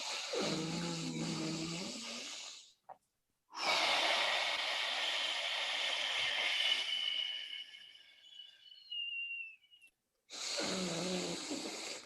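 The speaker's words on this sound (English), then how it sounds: "deep diaphragmatic performance breathing, from the bottom of your stomach, like a baby breathes" A man demonstrates deep diaphragmatic breathing: long, loud, close inhales and exhales drawn from the stomach, breathy and hissing, separated by brief pauses, with no speech.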